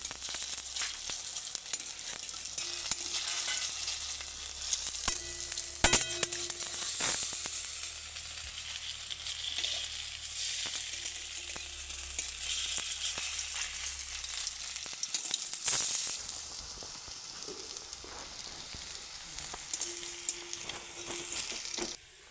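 Bottle gourd koftas frying in hot oil after being flipped, a sustained sizzle with scattered crackles and a sharp clatter early on, the hiss easing somewhat in the latter part, with no voices.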